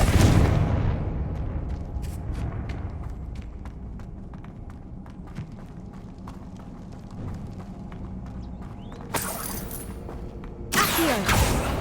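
A Confringo fire spell blast goes off in Hogwarts Legacy, a heavy booming burst at the start that rumbles and decays, followed by scattered clicks, creaks and footsteps, with sharper impacts toward the end.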